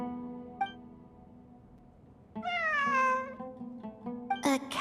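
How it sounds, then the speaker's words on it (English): Cat meowing in a video game, a drawn-out, rising-then-falling meow after a brief earlier chirp, heard fairly close over a quiet low ambient hum, with a sharper sound at the end. "A cat?"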